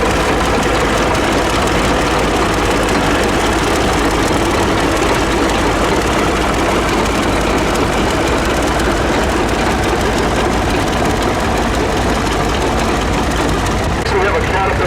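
Caterpillar RD6 crawler tractor, freshly repainted, idling at an outdoor threshing show, a steady loud low rumble running throughout with crowd and voices mixed in.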